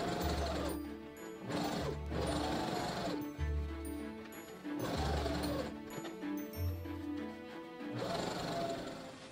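A sewing machine runs in repeated bursts while stitching four rows of thin cording for an early Victorian bustle, a close mechanical whir with rhythmic thumping and no voices.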